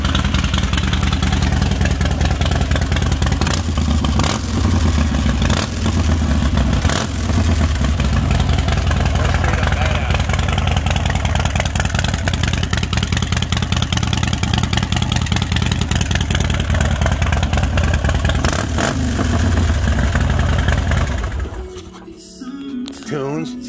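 A Harley-Davidson Dyna motorcycle with a Screaming Eagle Stage 4 engine, big-radius two-into-two exhaust, runs with a steady loud rumbling idle throughout, with a few slight revs, then cuts off near the end.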